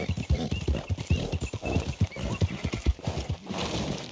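Horse hooves clip-clopping in the Red Dead Redemption 2 video game, a brisk, regular run of close, sharp hoofbeats lasting throughout, with faint game ambience and a possible whinny in the background.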